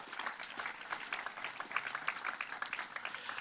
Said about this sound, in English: Round of applause for the Reagan Library